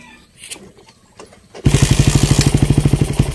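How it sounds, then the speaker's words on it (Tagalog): A Raider 150 motorcycle fitted with a 30mm open carburetor fires up on a single kick after some quiet shuffling, then settles into a loud, fast, evenly pulsing idle close by. "Hindi hard start si King Bob. Tag-isang padjak lang, andar kagad eh."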